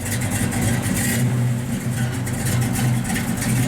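A 1965 Chevrolet Chevelle Malibu SS with a big block engine rumbles close by through its exhaust in a deep, steady idle with light pulsing blips of throttle, and no one talks.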